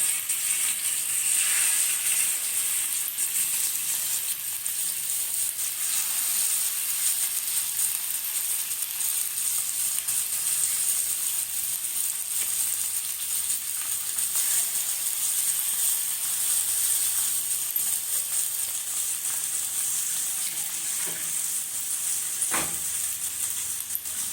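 Pieces of rohu fish frying in oil on a tawa, a steady bright sizzle that hisses continuously close up, with a few faint clicks and no talking.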